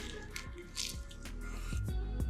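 Close bite into crispy, charcoal-grilled wild eel pressed with sushi rice and wrapped in nori, giving soft crunchy and squishy chewing sounds over a couple of seconds with some faint background noise.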